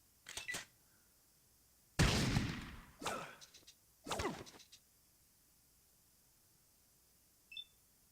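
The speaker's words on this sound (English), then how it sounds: "I could also shoot him in the carapace, shoot him in the brain." Several loud gunshots ring out in the Fallout video game while fighting a radscorpion, bursts of firing spaced across a few seconds with quiet gaps between them, plus a small electronic blip near the end.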